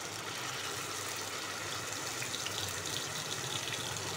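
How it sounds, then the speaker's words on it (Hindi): Mutton mince kebabs shallow frying in a little oil in a nonstick pan over low flame, giving a steady, even sizzle and crackle that holds throughout without any talk. "तो आइए अब हम इसको शैलो फ्राई करते हैं।"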